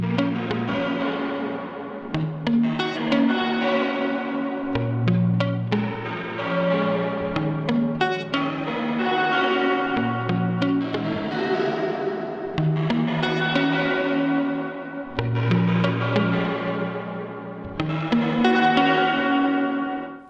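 A reverb fed by a fully wet, tempo-synced delay used as pre-delay washes over a rhythmic synth pattern, with repeating notes echoing and smearing into a dense ambient tail for about twenty seconds.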